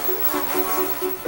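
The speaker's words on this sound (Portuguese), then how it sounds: "Ah, lá está a abelha!" A bee buzzes steadily in an outdoor scene, its close, wavering drone running through the whole moment without any voices.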